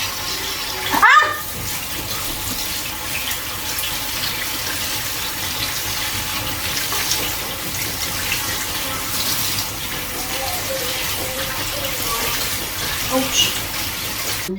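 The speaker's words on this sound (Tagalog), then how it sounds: "Ngayon, hugasan natin ulit." Tap water runs steadily into a sink while foraged forest mushrooms are washed by hand, a continuous close splashing rush with a sharp clatter near the start and faint voices behind.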